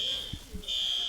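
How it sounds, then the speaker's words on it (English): A fire alarm sounds briefly as a steady high electronic tone that drops out for a moment and then resumes, loud and constant, with faint low thumps underneath. "there's a fire alarm"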